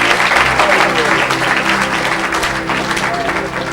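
Congregation at an evangelical church service clapping and cheering steadily throughout, a loud dense wash of applause with crowd voices mixed in.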